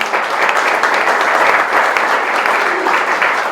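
An audience applauds at a tribute event honoring an artist, sustained clapping from a full room that holds steady at a lively level throughout, with no voices heard.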